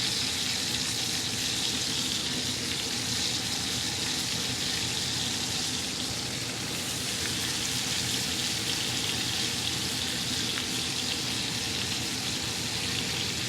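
A ribeye steak sizzles with melting butter in a hot cast iron pan. The frying hiss is loud and continuous, with no talk over it.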